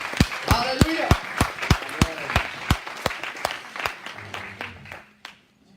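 A church congregation claps in a loose, quickening rhythm of sharp hand strikes, with voices cheering beneath before the clapping thins and fades out.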